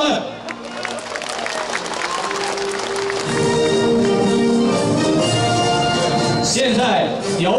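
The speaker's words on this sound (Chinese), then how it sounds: "让我们全场的朋友把掌声送给他们" A large crowd applauds during the opening ceremony of an international fishing competition in China, sustained loud clapping and crowd noise blended with background music and voices.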